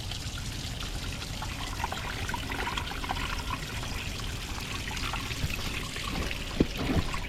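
Water pours and trickles steadily from an outboard boat engine being flushed, a continuous splashing stream with a couple of brief knocks near the end.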